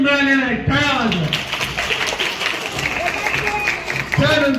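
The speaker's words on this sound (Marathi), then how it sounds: "त्यांना 1 गुण मिळालेला आहे. टाळ्या वाजवा." Students at a primary school quiz competition break into a burst of clapping for a team's point, with a voice speaking before and after the applause.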